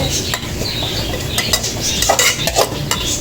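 Masala with spices is stirred in a pan for a crab pepper masala; a spoon clinks and scrapes repeatedly against the metal over a low, constant sizzle, close and fairly loud.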